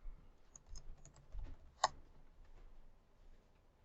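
A computer keyboard typed on quietly in a hushed room, sparse soft clicks with one sharper tap standing out midway.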